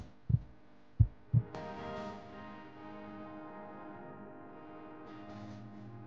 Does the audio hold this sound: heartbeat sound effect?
yes